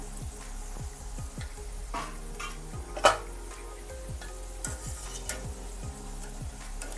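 Vegetable pakoda deep-fry in oil over a slow flame with a soft, even bubbling sizzle, and a run of light clinks and taps from a ladle. One sharper knock stands out near the middle, and nobody speaks.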